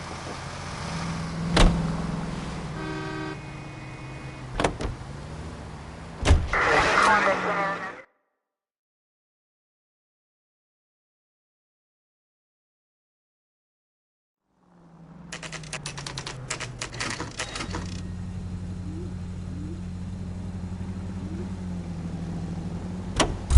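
A car driven through the streets in the video game LA Noire: a steady engine hum with clicks and mechanical clatter, cutting to total silence midway before the engine drone returns, with people talking.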